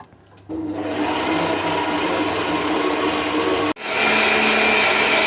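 An electric mixer whips six egg whites with a pinch of salt, starting with a jump into a loud, steady whirring drone, cutting out for an instant, then resuming at full strength.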